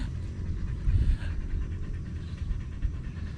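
A dog pants close by in quick, soft, breathy puffs, fairly quiet overall with a slightly stronger burst near the start and no talk.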